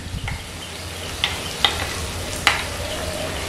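Mustard powder is stirred with hot water, giving soft scraping and swishing with a few sharp clicks of a utensil against the bowl, fairly close and alone over a low background hum.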